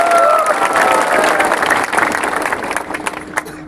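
Crowd at a first political rally in Tripura bursting into loud, sustained applause mixed with cheering and shouts, dense and close, tapering slightly toward the end.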